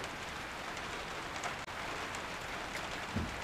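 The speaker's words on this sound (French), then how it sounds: "Ah oui, il pleut." Faint, steady rain patters outdoors as a soft continuous hiss, broken by a single sharp click midway and a small knock near the end.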